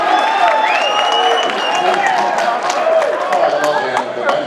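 Supporters at a political rally in Hamilton, Ontario clap and cheer continuously in a dense, close wash of applause, with voices shouting over it.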